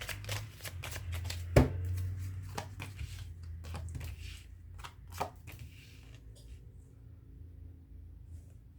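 A Lenormand card deck being shuffled by hand, a run of crisp riffling flutters and soft card slaps with one sharp thump early on, fading toward quiet near the end.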